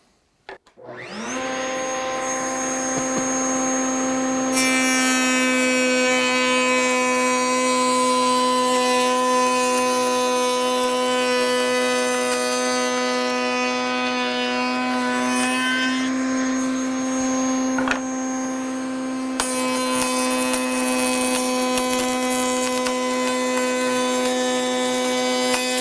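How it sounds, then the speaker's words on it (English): A power saw runs loud and continuous while making pattern cuts in wood muntins, a steady high whine with shifts in pitch and texture as the blade moves through the wood, with no talking. "I'm going to cut a pattern cut on this side and a pattern cut on that side"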